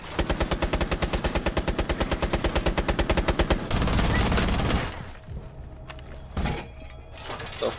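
Automatic gunfire rattles in a first-person shooter video game, a rapid, steady burst of shots lasting several seconds, then stopping into scattered rumble and a few softer impacts.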